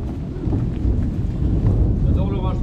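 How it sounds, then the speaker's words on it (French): A thunderstorm rumbles low and steady with rain falling outdoors in Paris, a dense continuous roar filling the scene while people chat nearby. "J'adore l'orage tout le temps."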